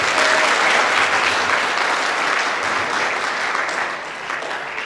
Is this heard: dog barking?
no